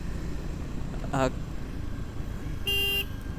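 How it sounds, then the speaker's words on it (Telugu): A short Triumph Scrambler 400X motorcycle horn beep, then a longer, louder honk about a second and a half later, over steady city traffic rumble. "అండ్ హార్న్ ఒకటే దీనికి మైనస్."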